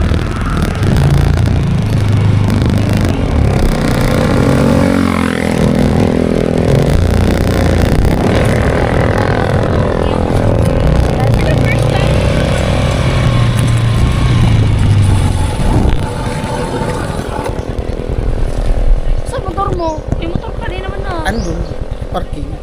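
A motorcycle ride with engine drone and road rumble running throughout, close and loud, with people talking over it.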